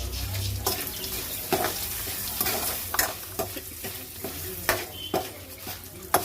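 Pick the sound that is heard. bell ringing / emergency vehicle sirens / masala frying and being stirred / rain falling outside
masala frying and being stirred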